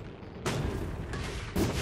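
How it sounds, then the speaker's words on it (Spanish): Gold meteorite launched in the game Oxygen Not Included, heard as two broad booming impacts, one near the start and one near the end, over a steady rumbling game background. "En este caso voy a tirar un meteorito de oro."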